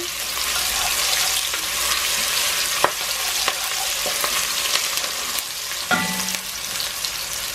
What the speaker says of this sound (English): I am going to be adding some onions and some garlic into the pan